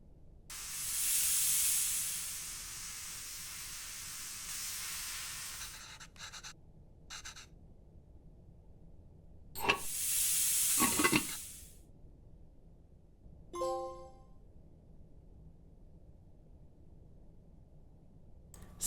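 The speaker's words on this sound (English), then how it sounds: "Now put the lid on the pot and turn on the stove" A lidded pot sits on a stove in the cooking game Venba, giving long steady hissing bursts of steam with a few short scratchy clicks and a brief tonal chime between them, close and without talking.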